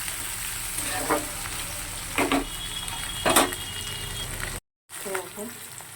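Onions fry in a pan with a steady, close sizzle, broken by three louder scraping stirs and a brief silent gap near the end.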